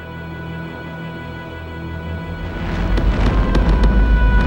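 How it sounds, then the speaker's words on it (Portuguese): A low rumble builds into deep booming volcanic explosions with crackling bursts, loud and continuous, rolling in from a distance. "E as explosões ainda continuam."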